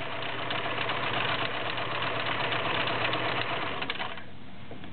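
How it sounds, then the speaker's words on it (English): A vintage Kenmore convertible free-arm model 1625 sewing machine stitches steadily, a close, even mechanical whir and rapid needle clatter running continuously before easing off at the end. "So I'm going to run through some stitches for you."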